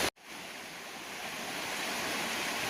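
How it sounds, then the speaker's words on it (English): Steels Creek in North Carolina flowing at a crossing on a day hike: a steady broadband rush of moving water that swells a little louder, continuous after a brief dropout at the start. "Alright, time to cross the creek now."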